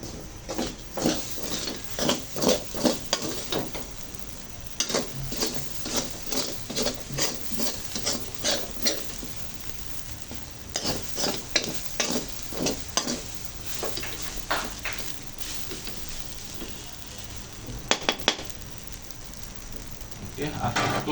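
A stick stirs rice cooking in a pot over a hot stove, giving repeated scraping and rustling strokes with a steady sizzle underneath. Conversation runs over it throughout.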